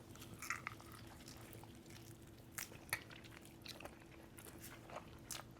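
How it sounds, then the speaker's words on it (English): Close-miked chewing and biting on a mild hot pepper, soft wet crunches and squishes coming in irregular bursts, quiet and intimate with no talking. "Sorry if we're chewing in your ear."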